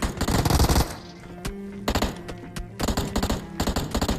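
Gunfire in PUBG Mobile, a dense automatic burst followed by several sharp single shots and short rapid volleys, loud and close, with no talk over it.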